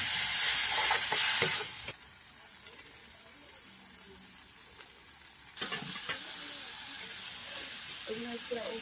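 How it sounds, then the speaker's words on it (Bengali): Turmeric, chili powder, cumin, coriander and meat masala fry in a pan for aloo dum, a loud sizzle with stirring scrapes that drops quieter midway and then flares up again. "এদিকে হলুদ গুঁড়ো, লঙ্কা গুঁড়ো, জিরা, ধনিয়া, মিট মশলা দিয়ে দেব। ভালো করে ভেজে নেব।"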